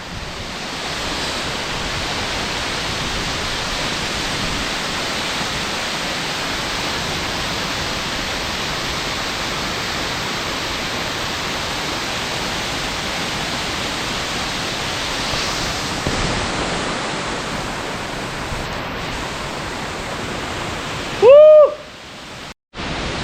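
A steady, roaring rush of falling water from Indreni waterfall in Darjeeling fills the whole stretch, constant and loud, with a brief sharp knock near the end.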